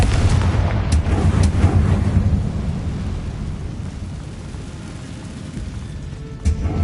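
The Confringo explosion spell in the video game Hogwarts Legacy booms as a loud, rumbling blast, with a sustained roar and scattered crackling impacts that fade gradually.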